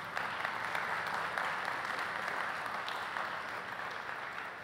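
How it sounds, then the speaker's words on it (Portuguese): Audience applause at an agricultural award ceremony for dryland winter crop champions, a continuous, even roar of many people clapping together, fairly loud and filling the room for several seconds. "Palmas para a Maria novamente."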